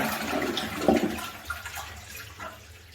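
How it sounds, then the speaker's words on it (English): A bathroom toilet being flushed to empty the water from its system before removal, a close gurgling rush that swells and then slowly fades out over a few seconds. "then I'll flush the toilet to get rid of the water that's in the system"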